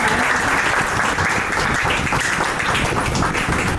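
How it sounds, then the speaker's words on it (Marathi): Guests applauding at a baby shower, a dense, continuous burst of many hands clapping loudly, fairly close and sustained from start to finish. "सगळ्यांनी टाळ्या वाजवा."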